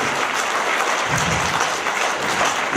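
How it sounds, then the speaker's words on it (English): An audience at an interview event claps loudly and steadily, a dense, continuous burst of applause that holds at full strength throughout. "a little louder guys, a little louder applaud for those that do that"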